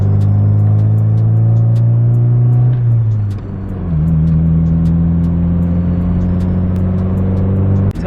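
Honda Del Sol engine hums loudly from inside the car while cruising, a steady drone that dips briefly as the revs drop and shift, then settles back to an even pitch.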